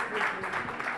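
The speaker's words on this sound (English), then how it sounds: "Round of applause, please, for our guests." Applause from an audience, a steady wash of clapping with a voice faintly mixed in.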